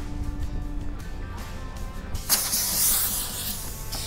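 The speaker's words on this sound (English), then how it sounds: "the air is dumping out of the flip axle, opening up the joint" Air suspension on a flip-axle trailer dumps its air in a sudden loud hiss that begins partway through and holds as a steady, close rush of escaping air over a background engine drone.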